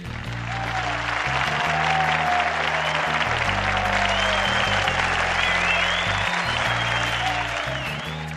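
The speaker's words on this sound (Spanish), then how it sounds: "aplausos para estas chicas y chicos chimbotanos." Applause for a group of young students from Chimbote, a steady wash of clapping lasting several seconds, mixed over loud background music with a sustained bass line.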